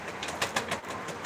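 Pigeons close by give a few short bursts of cooing mixed with quick wing flaps, over a steady low background hum.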